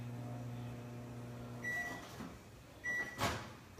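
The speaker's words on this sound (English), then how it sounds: "I have the microwave down here." A microwave oven hums steadily while heating tortilla bread for shawarma, then stops, followed by a door clunk and a couple of sharp beeps.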